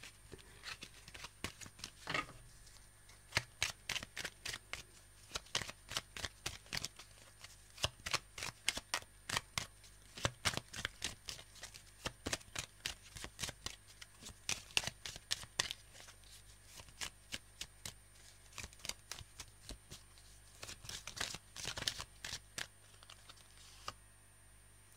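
Oracle cards being shuffled and drawn by hand, a dense run of quick crisp riffling flicks and taps that comes in bursts with short pauses, close and fairly quiet with no talking.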